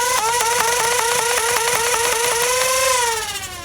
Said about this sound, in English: let's see how fast I can dump a 12 round mag with some better colored darts